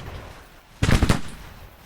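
A quick ragged volley of musket fire from Civil War infantry in the strategy game Grand Tactician: Civil War, a brief burst of several overlapping cracks lasting under half a second over a low battlefield rumble.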